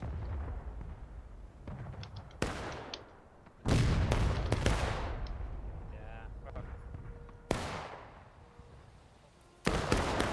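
Gunshots in War of Rights, a Civil War multiplayer shooter, on the Wagon Road map: several sharp reports, some near and loud, others farther off, spaced irregularly over a low battlefield din, with talk faint beneath.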